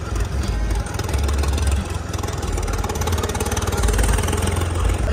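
A Ford tractor engine labours during a tractor tug-of-war contest, a loud, continuous throbbing rumble with slight pulses as the load strains, heard close and without clear talk.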